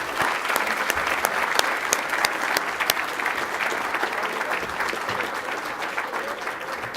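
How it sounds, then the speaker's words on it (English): Banquet audience at a high school football awards night claps for the team managers, a full, sustained round of applause from a roomful of people that stays loud and even before easing slightly near the end. "Let's give them a round of applause."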